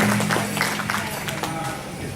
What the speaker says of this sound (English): Let's give her a round of applause for Katea Flansburgh